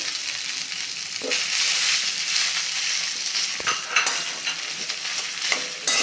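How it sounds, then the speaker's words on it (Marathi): Cooked rice for sweet rice being sautéed in ghee with whole spices, a steady close sizzle with a few scraping stirs of a spoon in the pan, and no voices. "तुपावरती आणि ह्या खड्या मसाल्यावरती हा भात आपल्याला छानपैकी दोन ते चार मिनटे छानपैकी परतून घ्यायचा आहे"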